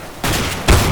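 Gunfire aimed at an enemy in a video game: two sharp, loud shots close together, the second heavier and booming, with no talking.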